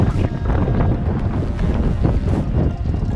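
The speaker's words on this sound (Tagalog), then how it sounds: "Hindi makaahon sa lakas ng hangin." Strong wind buffets the microphone with loud, roaring gusts that rise and fall continuously, no voices present.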